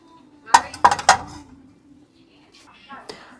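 Three bright clinks of glass dishes, including a rectangular glass plate, knocking together in quick succession in a shop, close by, followed by quieter faint rattles.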